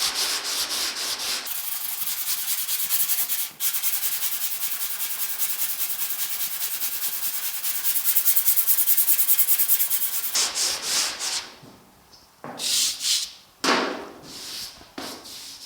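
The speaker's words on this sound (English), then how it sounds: "This glaze sands really easily. So I'm not putting much pressure at all." Body filler glaze on the door of a 1950 Chevy truck is sanded by hand with light pressure, making long steady hissing rub strokes, then shorter separate back-and-forth passes near the end.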